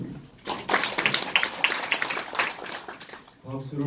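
Seated audience clapping at a Korean real-estate seminar to welcome a lecturer, a dense burst of applause that fades as a voice starts speaking near the end.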